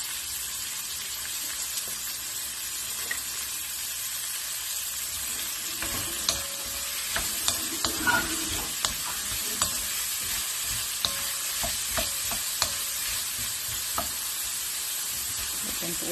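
Meat and green beans with carrots frying in a pan, a steady close sizzle with scattered sharp spatters and stirring clatters, no talk.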